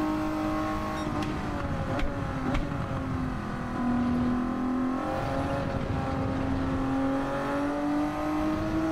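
A tuned Toyota Alphard minivan races in Gran Turismo 7, its engine holding a loud, steady high-revving drone that rises and falls through gear changes, close and continuous for the whole stretch.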